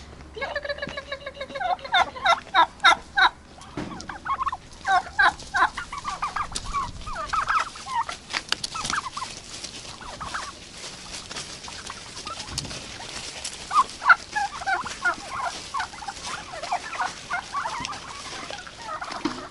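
Turkeys gobble in a village yard in winter, bursts of rapid warbling calls from several birds overlapping near and far, with quieter clucks and rustling between the louder outbursts.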